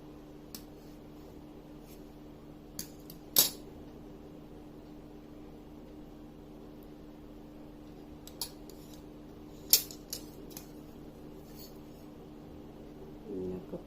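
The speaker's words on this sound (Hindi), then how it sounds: "पट्टी को मोड़ने के बाद ही मुझे ऐसे ही नेक की कटिंग करनी है" Scissors cutting the neckline of fabric for a ladies' top: a few faint, isolated snips spaced apart over a quiet room hum.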